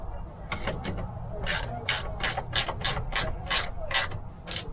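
A ratchet tightens a nut on a boat's mast step plate in a quick run of crisp, evenly spaced clicks, loud and close, with no talking.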